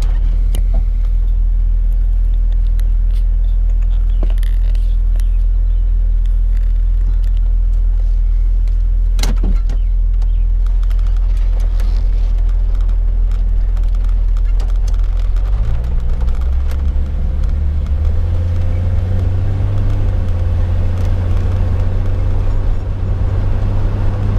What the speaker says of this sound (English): It's in the third gear.